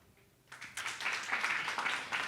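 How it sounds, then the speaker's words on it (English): An audience bursts into applause as a speaker, the CEO of Blockchain Lab, is welcomed onto the stage at a club talk. The clapping starts after a quiet moment and swells into sustained, fairly distant applause. "Please give a big round of applause."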